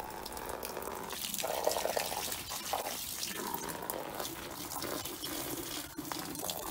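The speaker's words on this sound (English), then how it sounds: "now we're ready to start filling up the Lay-Z-SPA with fresh water." Steady rushing of water filling an inflatable hot tub, a continuous broadband hiss with some splashy variation, fairly close, no talking.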